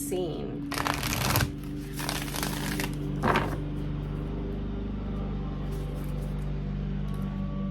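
Animal oracle cards being shuffled in two quick riffling bursts with a briefer third, close and crisp over a steady low hum, followed by quiet.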